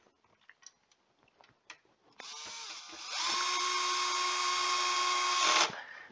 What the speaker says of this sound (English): I always use the torque rating on my setting on my drill